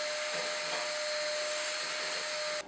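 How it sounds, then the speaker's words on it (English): A vacuum cleaner cleans out a Z Grills 450A pellet grill, a steady loud whine and rush that holds for a couple of seconds before cutting off at the end. "we're going to start off by vacuuming this out, get this area nice and clean"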